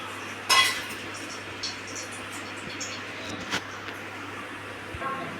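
A spoon stirs spices into sambar in a pot, giving a few faint, scattered metallic clinks against quiet kitchen background noise.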